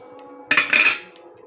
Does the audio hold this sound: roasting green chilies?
yes